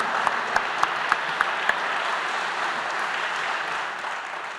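Steady audience applause in a hall at the Unapei congress award ceremony, an even wash of moderate, slightly distant clapping with a few sharper claps near the start and no one speaking.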